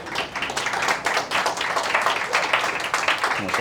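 Audience clapping at a book awards ceremony, a brisk, dense run of hand claps with distinct individual strikes, loud and close, continuing steadily without talk.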